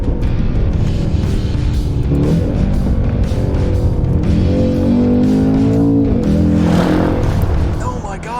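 A 4-liter twin-turbo V8 in a performance wagon, heard in a continuous loud engine roar with repeated rising and falling revs as it downshifts, while voices seem to talk over it.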